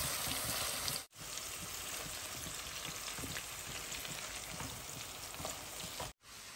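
Minced keema frying in a pan gives off a steady, even sizzle that holds at moderate volume with no talk, broken only by two short gaps.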